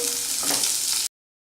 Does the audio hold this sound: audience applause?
no